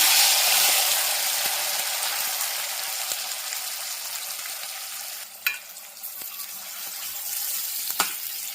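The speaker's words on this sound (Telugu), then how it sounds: "ఆయిల్ అయితే వేడైందండి మనం కట్ చేసి పెట్టుకున్న టమాటా అలానే ఉల్లిపాయలు అయితే యాడ్ చేస్తున్నాము" Tomatoes and onions fry in hot oil with a steady, close hiss, and occasional soft clinks and stirring taps.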